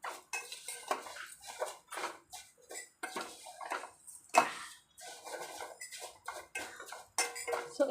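Vermicelli is stirred as it fries in a pan for semiya payasam: a steady, close clatter of a spoon scraping and clinking against metal, with no voices.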